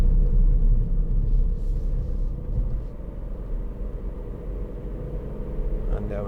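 A 2018 Ford Fiesta ST-Line X with the 1.0 EcoBoost engine pulls under throttle while driving in third gear, a steady low engine rumble and road drone continuing throughout with talk over it.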